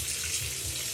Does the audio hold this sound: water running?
yes